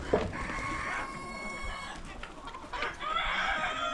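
Chickens kept in a cold winter coop at minus twenty degrees cluck and squawk close by, with several overlapping calls and a crow-like cry rising near the end.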